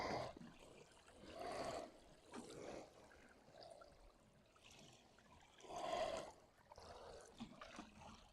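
Water poured over garden soil freshly covered with a compost layer, coming in faint, soft splashing bursts separated by quieter pauses.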